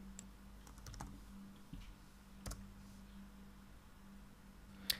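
Computer keyboard typing at a command prompt, a few light scattered key clicks over a faint electrical hum, quiet and close with no speech.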